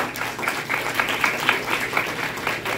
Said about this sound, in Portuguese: Uma salva de palmas para a galera que não sabe o que é Palmares.